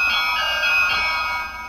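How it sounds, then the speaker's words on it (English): A toy house doorbell rings in a steady electronic chime, bright and close, holding for under two seconds with no talk over it. "Let's ring the doorbell to the sister's room."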